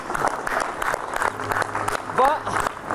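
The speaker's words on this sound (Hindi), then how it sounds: "चलो मैं एक बार तालियां बजा दो इन सबको" Children applauding together during a yoga session, steady brisk clapping under a speaking voice, with a brief high whistle-like tone near the end.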